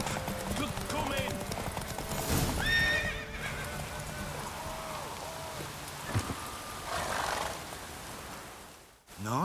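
Horse hooves clip-clop at a gallop in The Witcher 3, with a loud whinny breaking through midway, rain faintly pattering behind and game voices speaking over parts of it.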